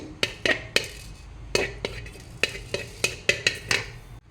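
A few fenugreek seeds frying in a hot pan for a Kundapur-style chicken ghee roast, heard as a quick run of metallic clinks and scrapes from a spoon stirring in the pan, close and fairly quiet, with no talk.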